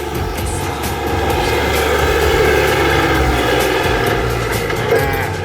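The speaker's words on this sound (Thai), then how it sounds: "เสียงเครื่องเสียงเฟืองท้ายนะครับ นิ่มๆเลยนะครับคันนี้นะครับ" A Kubota L4018 tractor's three-cylinder engine and rear gear run steadily with a low mechanical drone and gear whine, loud and close throughout, with no voices.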